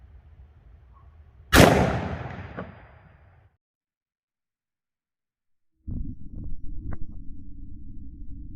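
.223 rifle shot from a 20-inch barrel firing a Barnes Vortex solid copper round, a single sharp loud crack with a decaying tail, then silence and a low background rumble with faint clicks.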